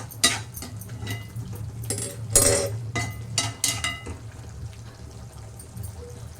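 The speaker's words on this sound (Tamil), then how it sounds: "இப்போ நம்ம ஈரல் வெந்ததை இதில் ஊற்றிக்கலாம்." Cooked mutton liver is poured into a pan, making soft wet splashes and scattered clinks of metal utensils against cookware over a low background hum.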